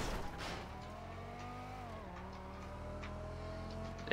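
A Banshee 900R sports car engine in a driving video game holds a steady revving drone with a smooth pitch dip midway, moderately loud with no one talking over it.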